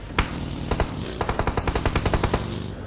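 Bursts of gunfire in the PUBG Mobile video game, several rapid shots then a steady run of evenly spaced automatic rounds, fairly close and sharp, with no talk.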